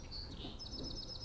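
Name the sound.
finch chirping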